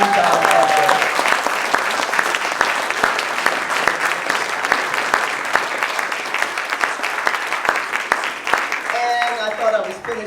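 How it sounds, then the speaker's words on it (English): An audience at an evening celebration applauds Reverend John Edgar, dense steady clapping from many hands that holds for about ten seconds, with a voice briefly heard at the start and end. "We got to have another round of applause for Reverend John Edgar."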